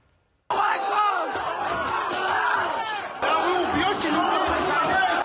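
An angry crowd storming Makhachkala airport in Dagestan and forcing in windows roars with loud, dense, continuous shouting and yelling that swells again midway and never lets up.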